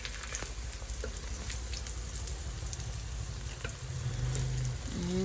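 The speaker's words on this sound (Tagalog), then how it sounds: "Lutuin lang talaga natin itong hash brown kasi nga gusto din nila toasted lagi." Hash brown frying in a pan for a family breakfast, a steady, close crackling sizzle with scattered pops and light spatters, a brief tonal clink near the end, no voices.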